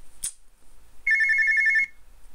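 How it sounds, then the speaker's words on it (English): Telephone ringing in the video game Dayshift at Freddy's 3: a short click, then one electronic ring burst with a rapid warbling trill lasting under a second, loud and clear against silence. "We would go home if we didn't get a phone call."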